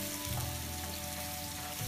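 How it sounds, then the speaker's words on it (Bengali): Vegetables fry in a pan for vegetable macaroni, giving a steady, fairly quiet sizzle that runs evenly throughout with a light stirring rustle near the start. "সবজিগুলো একটু ভাজা ভাজা হবে।"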